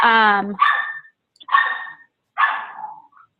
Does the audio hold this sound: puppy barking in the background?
yes